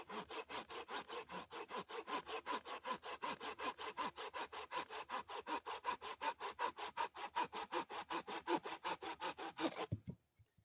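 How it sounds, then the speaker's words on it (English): A hand saw cuts through a wooden branch in steady, rapid back-and-forth strokes, close by, about four per second, stopping abruptly near the end. "Quick, efficient, easy way to saw a branch to whatever length you need."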